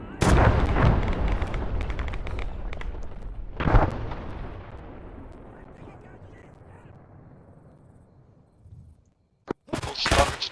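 Artillery fire in the military game Arma 3: heavy booming shots with a second loud blast, each followed by a long rumbling decay, then sharp radio clicks as a voice speaks over the net.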